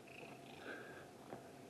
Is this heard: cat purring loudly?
yes